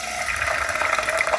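Canned chickpeas hiss and sizzle steadily in a hot pan with residual water, a close, continuous sputtering wash with no pauses.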